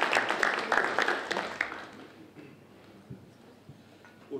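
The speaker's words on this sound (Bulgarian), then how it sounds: "Да им е честито, аплодисменти." Rotary club meeting audience applauding, a short burst of clapping that tapers quickly into scattered claps and room murmur.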